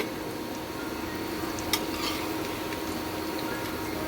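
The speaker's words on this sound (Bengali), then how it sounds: "এটা লাল লাল করে ভাজা হয়ে গেছে, আমি এবার তুলে নিচ্ছি।" Fish egg fritters frying in hot oil as they are lifted out of the pan, a dense, even sizzle throughout with one brief metallic click of a utensil partway through.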